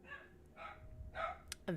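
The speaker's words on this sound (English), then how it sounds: "you may hear my dog" A dog gives a few faint, distant barks and yips indoors, short and scattered, mixed with soft voices.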